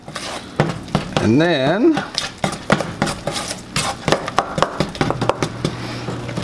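Blueberry wheat ale bread dough being mixed in a bowl: close, irregular scraping and clinking of a utensil against the bowl, with someone speaking briefly over it.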